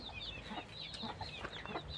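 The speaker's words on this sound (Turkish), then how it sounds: "Köy tavuğu değil mi bunlar?" Village chickens in Samandağ, Hatay cluck steadily and overlap one another, with soft close calls over a low rural background and no talk.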